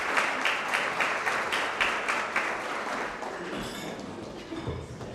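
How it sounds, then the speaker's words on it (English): Applause for Krista at a Chamber of Commerce Diamond Awards event, a mid-sized audience clapping in a steady pulsing rhythm that tapers off, with some voices underneath. "Can we make the clap for you again, Krista?"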